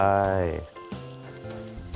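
Straw mushrooms hit a hot wok in a Thai kitchen and sizzle and fry, with a crackling spatter that continues under a voice speaking at the start.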